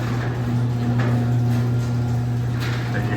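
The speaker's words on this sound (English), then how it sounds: "It's a steel non-insulated door, so it's noisy, it's a chain drive opener, so it's not gonna be quiet." A steel non-insulated garage door running down on a chain drive opener, giving a steady mechanical hum and rattle with an even drone throughout, close and fairly loud.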